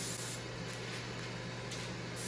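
Cooking spray hisses from a can onto apple tartlets, a continuous close hiss with a few short breaks and pulses, set away from an indoor grill.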